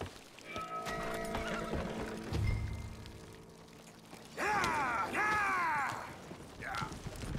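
Spooked horses in Red Dead Redemption 2 neighing loudly in two close whinnies after clip-clopping hooves and wagon creaks, with faint talk in the background.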